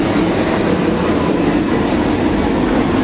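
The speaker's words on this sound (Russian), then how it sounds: "И вот этот шум, это воздух, всасывается воздух, скорее всего, в вентиляционный шахтный ствол рабочий." Air rushing and being sucked into a working mine ventilation shaft some 300 metres underground, a loud, steady, broad roaring rumble that fills the space without pause.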